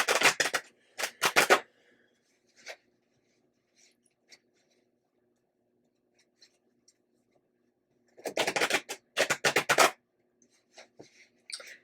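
Two bursts of crisp riffling cards, one early and one near the end, with soft taps and shuffles scattered in the quiet between.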